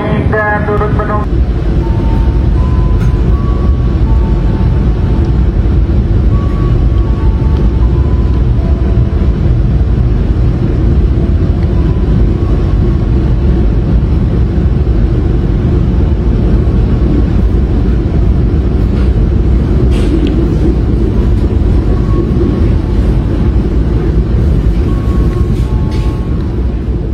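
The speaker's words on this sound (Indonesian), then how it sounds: "perjalanan kereta api Cakrabuana sudah berangkat dari stasiun Ciledug" A Cakrabuana passenger train pulls out of Ciledug station in a loud, steady rumble of wheels and engine that lasts throughout, with faint voices and a brief tonal chime near the start.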